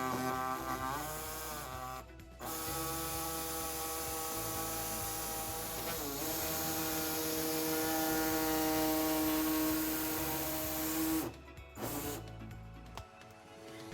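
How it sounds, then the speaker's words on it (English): An air saw trims the rear bumper fascia of a 2010 Volkswagen Tiguan, a close, sustained buzzing whine with a steady pitch that starts, stops and restarts in several runs. "So today we'll be using an air saw to trim our fascia"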